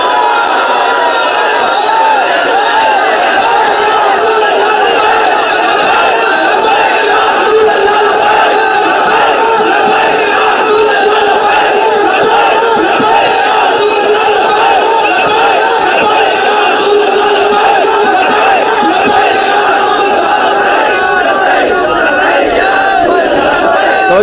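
A large religious rally crowd chants the Labbaik slogan in unison, a loud, dense roar of many voices rising and falling in rhythmic waves without a break for the whole stretch.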